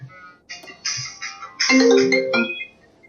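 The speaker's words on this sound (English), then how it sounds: "I'm not going to take that phone call." An incoming call rings on a phone as a loud melodic ringtone that builds in stacked bright tones and plays alone for about three seconds.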